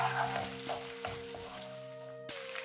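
Olives frying in a wok with anchovies melted into the oil, a steady soft sizzle beneath a sustained electrical hum, with a few light stirring knocks, close and moderately loud, no voices.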